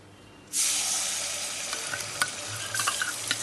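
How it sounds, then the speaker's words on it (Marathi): Ground spice masala hits hot oil for a chicken curry and bursts into a loud, steady sizzle that keeps frying close up, with occasional stirring scrapes and pops, and no one talking. "ग्राइंड केलेला मसाला आपण फ्राय करूया"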